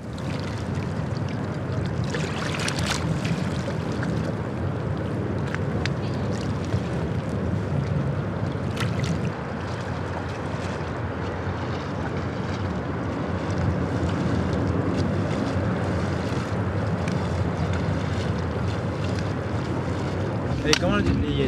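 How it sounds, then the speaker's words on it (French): Water on the Danube river in Budapest laps and sloshes steadily for a long stretch under heavy wind rumble on the microphone, with occasional faint splashes. "clapotis, Danube."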